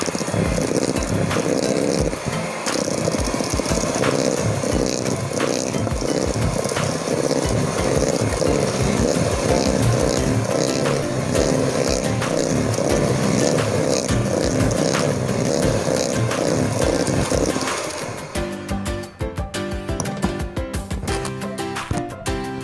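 A mixer machine running while a Bolu Sabraka cake batter is being blended, a continuous loud motor whir with a rattling, scraping texture that lasts throughout and changes character near the end.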